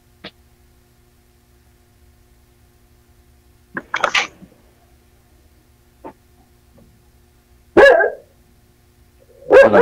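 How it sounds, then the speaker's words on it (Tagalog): An angry dog barks at what it takes for someone outside, giving a few loud, sharp barks spaced seconds apart with near silence between them and no talking. "Nagalit na aso mo dyan."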